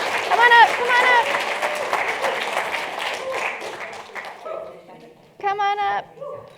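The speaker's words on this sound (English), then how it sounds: "Can we have one more round of applause for this incredible group of storytellers?" An audience at a world forum gives a round of applause for a group of storytellers, dense clapping with cheers that slowly thins and fades, while a host speaks over it and keeps talking once it stops.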